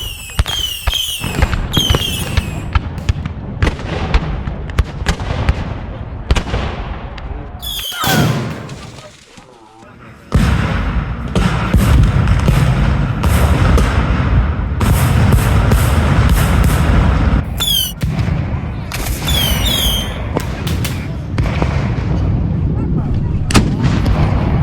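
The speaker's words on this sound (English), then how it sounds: "About 80 Union guns answer, creating the largest artillery bombardment during the Civil War." A massive Civil War artillery bombardment from about 80 Union guns at Gettysburg, with heavy booming cannon blasts rolling continuously, dense and loud, broken by a brief lull before the barrage resumes at full intensity.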